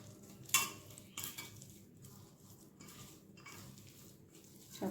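Boiled potatoes are mashed and mixed by hand with salt for cheese balls, giving soft, quiet squelching and rubbing with a few sharper clicks against the bowl.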